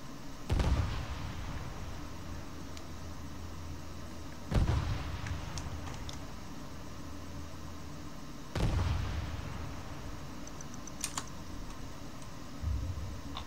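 Three heavy booming bombardment explosions in the video game Stardrive land a few seconds apart, each a sharp low thud with a rumbling tail over a steady background hum.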